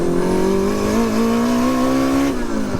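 A big-turbo Toyota MR2 sleeper pulling hard in second gear, engine note rising steadily and loud from inside the car, then a brief dip near the end as the throttle eases.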